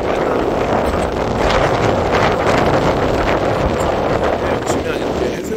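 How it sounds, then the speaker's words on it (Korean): Heavy seaside wind at Moham, Buan, buffets the microphone throughout, a loud, continuous roar with gusty rumbling and no pauses. "바람 소리가 많이 들어갈 것 같은데요"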